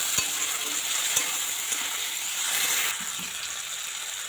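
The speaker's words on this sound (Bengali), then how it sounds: "এটা ঢ্যাঁড়সটাকে ভাজতে লাগবে একটু সময় নিয়ে হালকা আছে ভাজতে লাগবে" Okra sizzles steadily in a pan with turmeric, a constant close hiss of frying broken by a few soft clicks and scrapes as it is stirred, with no talk.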